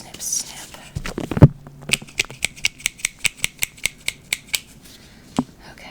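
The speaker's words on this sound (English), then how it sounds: "just a little snip snip." Scissors give a quick run of about a dozen crisp, evenly spaced snips, close and clear, preceded by soft rustling and handling in a quiet doctor roleplay setting with whispery sounds.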